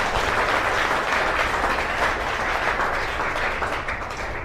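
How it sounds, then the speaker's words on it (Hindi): Enthusiastic applause from a seated audience at an RCM network marketing event: steady, loud, dense clapping from a large crowd that fills the whole span without a break. "एक बार जबरदस्त ताली होनी चाहिए दोनों आदमी के लिए"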